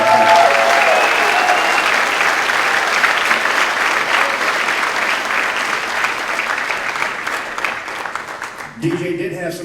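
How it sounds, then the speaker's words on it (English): A school auditorium audience at a spring band concert's awards segment gives sustained, dense applause. It is loud at first and gradually thins, then cuts off abruptly near the end. "So please turn around and give DJ a quick round of applause."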